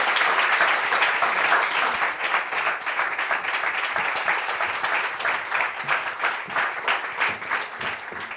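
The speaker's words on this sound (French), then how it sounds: "On applaudit s'il vous plaît." Loud, sustained audience applause fills a TV studio set as a life-coach guest is welcomed onto the stage, dense clapping holding steady for several seconds with no voices over it.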